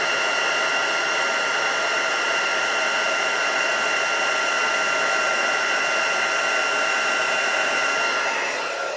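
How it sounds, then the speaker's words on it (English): A heat gun melting embossing powder blows with a steady, loud, close whooshing hiss that holds for several seconds and only tapers slightly at the end. "As soon as it starts to melt, just move your heat gun on a bit."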